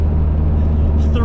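A tuned Mazda Miata on fresh tires makes a steady, loud engine and road roar during a 0-60 mph acceleration run. The sound is brief and close, with a faint voice near the end.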